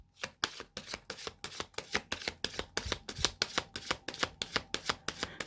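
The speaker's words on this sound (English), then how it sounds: "Just going to give it a shuffle." A Numinous Astro tarot deck being shuffled by hand, a steady run of quick crisp riffling slaps at an even rhythm, close and soft, with no talk.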